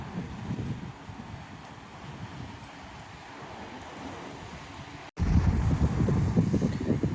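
Stormy sea off Odesa, with rough waves washing ashore under constant wind buffeting the microphone; a low, broad rumble fills the first five seconds, then after a brief dropout a louder, closer surge of wind and surf takes over.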